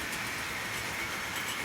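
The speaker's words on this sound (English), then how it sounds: "And the petrol train just heading away from us." A Tri-ang model train runs away along the track of a Super 4 layout, a steady faint whirring rumble with a constant low hum, even and continuous without voices.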